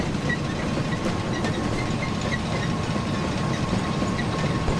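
Saxon IV-K 0-4-4-0T tank steam locomotive in Train Simulator Classic running at low speed, a steady dense rumble of wheels and machinery with faint rail clatter throughout, no voices.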